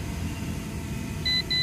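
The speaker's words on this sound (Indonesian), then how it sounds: "pencet lama kembali sampai bunyi bip bip" Two short, high electronic beeps in quick succession come from an MJX B20 EIS 4K drone remote as recording is stopped, sounding clearly over a constant low background rumble.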